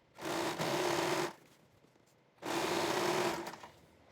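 A sewing machine stitches elastic onto a fitted bed sheet in two loud, close runs of rapid whirring, separated by a short pause.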